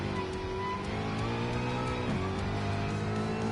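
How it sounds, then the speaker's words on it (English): A video game racing car engine roars continuously up close, revving with layered harmonic whine and a brief pitch dip partway through. "Listen to this thing. Sound like a big real car."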